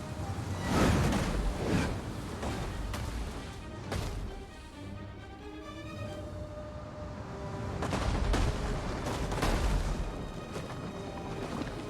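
Siege weapons barrage towers in a Rome: Total War battle at Cyrene, a dense roll of booming impacts and crashes swelling and fading across the clip, loudest near the start and again late, with no talk over it.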